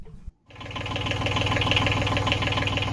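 A boat engine kicks into life after a brief silence and settles into a steady, rhythmic mechanical chug with a knocking pulse, running loud and close.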